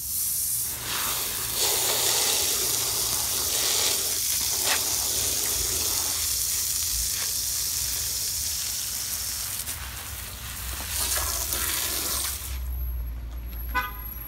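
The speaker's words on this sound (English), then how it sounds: "Now we'll put the phone under the water hose" A water hose sprays hard onto a phone outdoors, making a steady loud hiss that runs for about twelve seconds before it cuts off.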